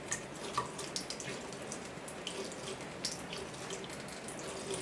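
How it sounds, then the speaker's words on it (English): Thin stream of tap water running steadily into a sink while being bent by a charged balloon, a soft continuous splash with faint drip-like ticks, fairly quiet and heard alone. "So I can deflect water with a charged balloon."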